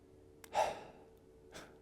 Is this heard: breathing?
yes